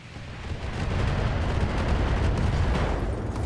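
Mech weapons fire in the Battletech video game, a dense, sustained barrage of booming, crackling blasts rolling continuously at high volume with heavy low rumble and no talking.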